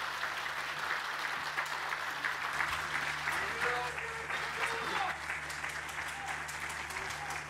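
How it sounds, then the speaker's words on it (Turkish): A crowd at an outdoor municipal opening and groundbreaking ceremony in Beylikdüzü applauds CHP leader Kemal Kılıçdaroğlu, with steady, sustained clapping and voices mixed into the applause. "Kıymetli alkışlarınız Cumhuriyet Halk Partisi Genel Başkanı Sayın Kemal Kılıçdaroğlu için gelsin."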